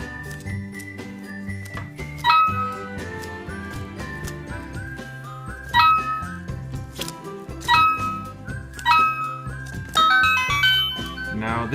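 Chiming electronic coin sound effect from a Jakks Pacific World of Nintendo golden coin plush toy, the same tone as the question block, heard as bright repeated dings over a busy musical background.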